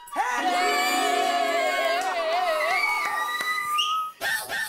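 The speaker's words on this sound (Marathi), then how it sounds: "अगं शिट्टी." A loud, wavering whistle holds steady for about four seconds over a lively crowd in a comedy TV scene, breaks off briefly, then returns at the end.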